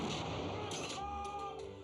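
Cannon fire in a game set in the reign of Elizabeth, a booming report rolling out and decaying under a continuous noisy backdrop, with a voice speaking briefly.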